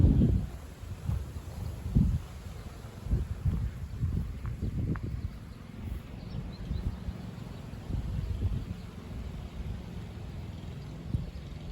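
Strong south wind blowing across an open farm field in April, a steady low rumbling roar with gusts buffeting the microphone throughout, no voices.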